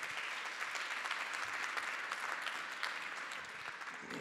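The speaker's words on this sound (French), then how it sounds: "On l'applaudit, s'il vous plaît, très fort." Steady audience applause fills a conference hall after a debate contest on art and health, dense continuous clapping heard alone at a fairly even, moderate level for about four seconds.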